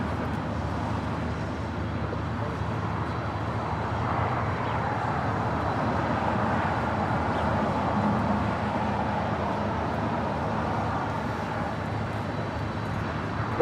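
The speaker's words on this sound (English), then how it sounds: "This is Asiana Cargo 286 coming in from Anchorage on a 747-400 converted freighter." An Asiana Cargo Boeing 747-400 converted freighter landing at LAX, its broad steady jet roar rising slightly and then holding, loud and continuous with no talk.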